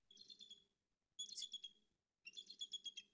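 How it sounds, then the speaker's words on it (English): Three short bursts of high, thin chittering from a recorded bald eagle call, played back quietly with brief pauses between the phrases. "they have a kind of silly sounding call considering how impressive and imposing of a bird they are"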